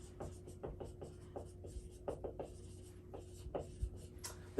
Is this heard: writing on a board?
yes